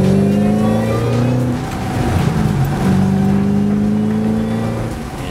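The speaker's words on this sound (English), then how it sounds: "my Borla system makes the car sound like I'm under carburation rather than fuel injection" Ford Shelby GT500 fitted with a Borla exhaust revs loudly close by, a deep steady engine drone rising and falling in pitch over several seconds, with no voices.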